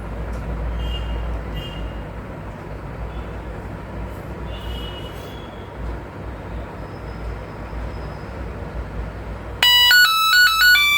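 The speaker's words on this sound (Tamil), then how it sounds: "இப்போ பஸ்ஸர் இதை வந்து ஆக்டிவேட் ஆகும்." A water tank overflow alarm buzzer on a five-stage water level indicator starts near the end as a loud, steady electronic tone. Before it, a long stretch of low, rumbling background noise fills the clip.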